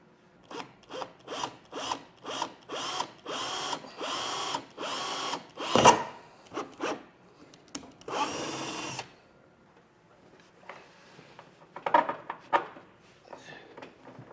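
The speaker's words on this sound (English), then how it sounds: "For the Schrader valve, once you get your hole drilled" A power drill bores a hole for a Schrader valve while an Air Lift WirelessAIR suspension system is fitted to a 2019 Ford. About a dozen short, even, whirring bursts come close together, followed by sparser, quieter drilling and handling noises.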